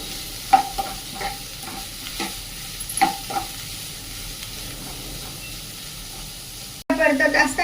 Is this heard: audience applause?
no